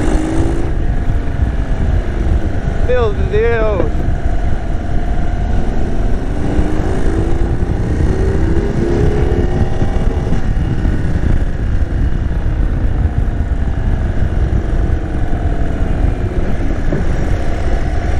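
A 2023 Indian Sport Chief motorcycle on a test ride gives a steady, full engine rumble beneath heavy wind buffeting throughout, with a voice briefly exclaiming near the start.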